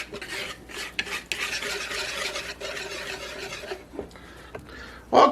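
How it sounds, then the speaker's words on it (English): A spoon stirs maple syrup and buttermilk into a dry pancake mixture, giving close, steady scraping and swishing against the bowl that ends with a couple of sharp clinks. "I stir it into the dry mixture"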